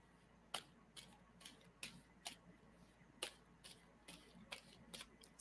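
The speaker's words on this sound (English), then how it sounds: "tell me when I should stop shuffling on that" A deck of cards being shuffled by hand, close and quiet, with a string of crisp riffling bursts at an uneven rhythm.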